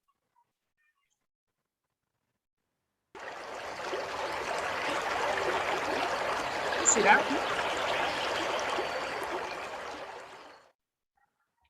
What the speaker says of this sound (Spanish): Agua. De un río.